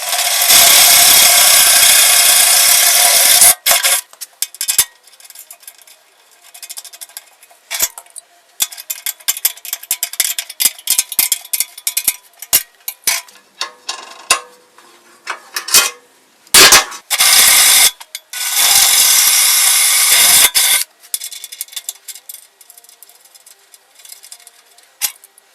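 A Kubota-powered beef and pork poker mechanism clatters and ticks in bursts, with loud broadband stretches broken by gaps and sharp mechanical clicks, heard alone without talk.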